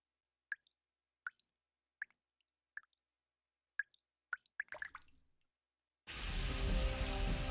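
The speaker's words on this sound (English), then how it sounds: "Water's coming from the ceiling!" Water drips from a ceiling in the video game NIKKE: about eight sharp, separate plops at a slow, irregular rhythm in a quiet space, the last few coming quicker and splashier before a loud burst of rushing water cuts in.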